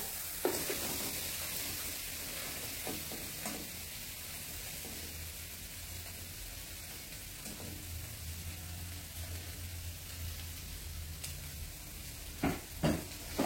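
Tofu frying in hot oil with salt, a steady close sizzling hiss throughout, broken by a few sharp clacks from stirring near the start and at the end.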